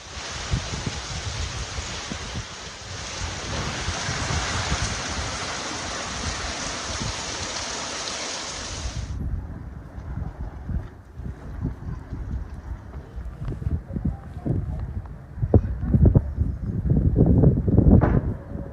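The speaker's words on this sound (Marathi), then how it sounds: "करवीर तालुक्यात जोरदार पाऊस बरसतोय" Heavy rain with hail pours down in a dense, roaring wash during an unseasonal summer storm in Karveer taluka, Kolhapur, then continues as rougher, gustier drumming with sharper bursts toward the end.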